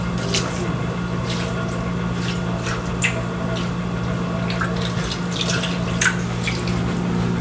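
Water poured into a pot of lamb and venison shanks being braised with allspice, red wine and gravy, a steady close pouring and splashing wash running for several seconds with no talk.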